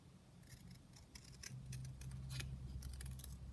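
Scissors snip through paper again and again while a junk journal is crafted from an altered book, crisp close cuts in an irregular rhythm over a faint low hum, with no speech.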